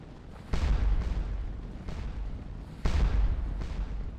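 Artillery guns firing at a farmhouse in the Napoleonic battle game Scourge of War Waterloo, two heavy distant booms with rumbling tails and a few fainter reports between them.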